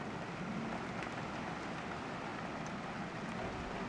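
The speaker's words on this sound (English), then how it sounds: "The sun's still out, but it's raining." Rain falls outdoors in Decatur, Illinois, during a sunshower, a steady dense hiss of drops on surfaces with a few louder nearby patters; no voices.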